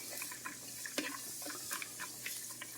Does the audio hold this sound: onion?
yes